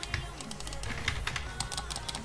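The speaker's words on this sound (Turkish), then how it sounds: "Kanka benim şu an klik sesim geliyor değil mi?" Computer mouse clicking during a Minecraft Survival Games session: rapid, light clicks in quick irregular bursts, close to the microphone over a low background hum.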